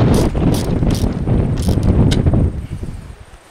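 Stainless steel lock nuts tightened on a 144 MHz quad antenna with a ratchet wrench, giving rapid clicking pawl bursts over a loud, rumbling outdoor background that fades at the end.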